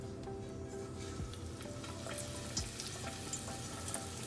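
A spaghetti-wrapped meatball is lowered slowly into frying oil heated to 350 degrees, giving a steady, moderately loud sizzle and bubbling crackle that persists throughout with no talking.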